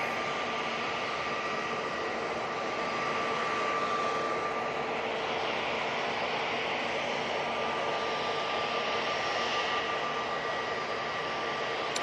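Air Transat A321neo LR airliner on final approach at Manchester Airport, a steady broadband engine roar with a faint whine, loud and unbroken throughout with no talk.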